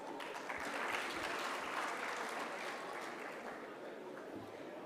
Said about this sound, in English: Let us give Altaf and Manav a warm round of applause